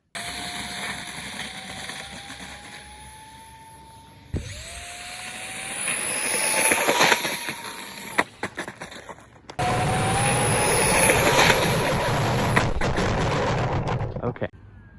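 A twin liner plane in a video game drones with rising engine pitch, then crashes in loud bursts and impacts, with more engine noise and crashes after.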